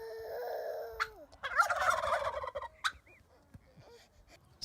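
Turkeys gobble in repeated loud bursts close by, with overlapping calls and a brief pause between outbursts.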